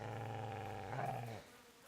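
A dog in the Kingdom Come Deliverance video game gives a low, rumbling growl that holds steady and then cuts off abruptly, faint and alone.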